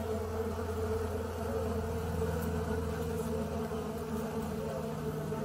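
Honey bees flying in and out of an illuminated entrance tube on a zoo hive give a steady, continuous buzzing drone with faint low hum beneath, alone without talk.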